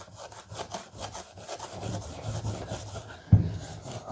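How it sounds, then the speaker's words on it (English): A buffing pad rubbing on the edge of a plastic hot rod headlight for a 1940 Ford inspired hardtop coupe; a rhythmic rasping scrub in quick strokes, close by, ending in one louder thump, with no talk. "The edge of the plastic is catching on the pad."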